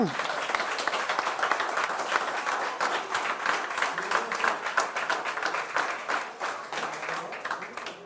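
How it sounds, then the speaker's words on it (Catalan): A crowd at the opening of the Gastromar food festival in l'Ampolla, an oyster cooking contest, applauds the chefs in a steady, dense wash of clapping lasting several seconds, with some voices mixed in. "encara aquest aplaudiment en tots els professionals, cuineres i cuiners"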